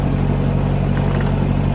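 A 1956 Massey Ferguson MH50 tractor running with the clutch pushed in, a loud, steady low engine drone with a rough grinding layer, close by and with no voices.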